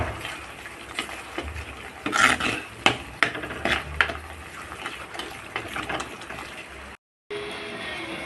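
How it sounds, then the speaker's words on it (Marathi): A spoon scrapes and rasps against a pan while homemade masala is stirred and sautéed, giving close, irregular scraping strokes with a few sharper clinks, briefly cut by a short gap of silence near the end. "हे सुद्धा छानपैकी परतवून घेते आहे"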